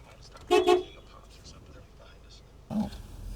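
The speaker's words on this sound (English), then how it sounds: "give him a honk" Two quick car horn toots close together, followed moments later by another short honk, over a steady road and engine rumble.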